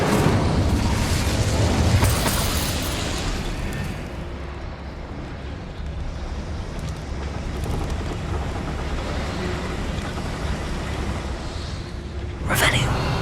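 Incendio fire spell cast in the video game Hogwarts Legacy, a loud rushing burst of flame that fades into a long rumbling roar, followed near the end by a sharp crackling flare.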